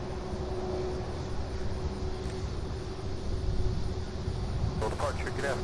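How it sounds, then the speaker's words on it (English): A 22-year-old Airbus A319 departs Louisville toward Charlotte, its engines a steady distant rumble with a faint whine. Someone talks over it, and radio chatter cuts in near the end. "That's one here heading to Charlotte. 22-year-old Airbus A319."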